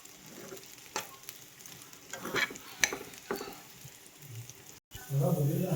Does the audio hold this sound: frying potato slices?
yes